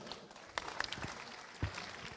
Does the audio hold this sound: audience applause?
yes